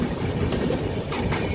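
Train on the Araku Valley line through forested hills and tunnels, a close, steady rumble of wheels with rhythmic clatter from the carriage.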